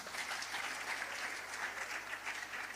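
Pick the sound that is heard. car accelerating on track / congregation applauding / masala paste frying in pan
congregation applauding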